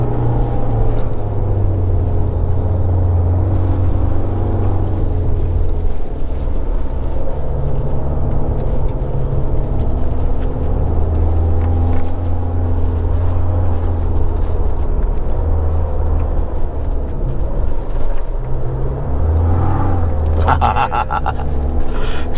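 A 2023 Isuzu D-Max X-Terrain climbs a winding Genting mountain road with traction control switched off. Inside the cabin, a steady, loud low engine and road rumble drones on without a break, and no tyre squeal stands out.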